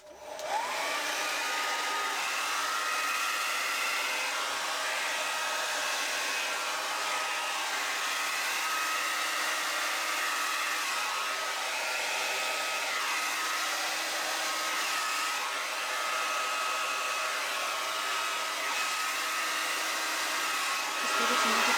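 A hair dryer blows steadily for the whole stretch, pushing white acrylic paint across a canvas in a paint pour, loud and continuous with a constant whooshing hum.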